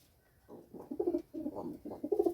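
Close pigeons coo in soft, low, repeated throaty bursts, several calls in quick succession with brief pauses between.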